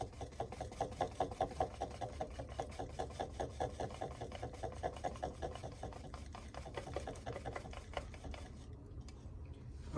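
Dried sweet banana pepper flakes ground steadily in a grinder, a continuous rasping, churning whir that runs close and fairly loud before easing off near the end.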